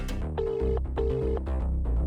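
A telephone call is placed to the police: a short burst of phone dialing tones, two steady beeps with clicks between them, close and clear.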